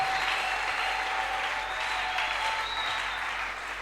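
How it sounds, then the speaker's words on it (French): Audience applause fills a church gathering, a steady dense clapping that holds at an even level from start to finish with no voices over it. "Acclamons pour le roi de rois."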